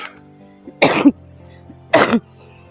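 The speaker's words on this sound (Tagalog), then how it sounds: "Matagal na yung ubo ko" Two harsh, separate coughs about a second apart from a man with a lingering cough, close to the microphone in a quiet setting.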